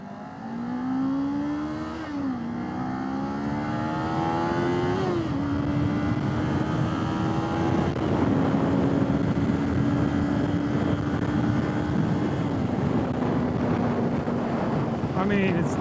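A small motorcycle on a gravel test ride, its engine droning steadily and shifting pitch as it climbs through gears, with strong wind buffeting the microphone throughout and no talking.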